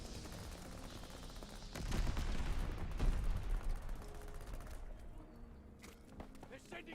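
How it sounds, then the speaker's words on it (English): Mortar shells firing in a video game, a burst of heavy, rapid booming reports that swells to a loud peak and then fades into scattered mechanical clatter. "They're sending mortar shells."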